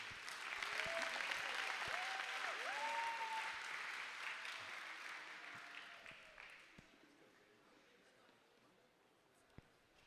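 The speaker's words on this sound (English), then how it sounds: "How about a round of applause for Pastor David?" An audience at an athletic awards ceremony applauds Pastor David, a dense wash of clapping that swells early and then tapers off over several seconds, with a voice briefly rising above it near the start.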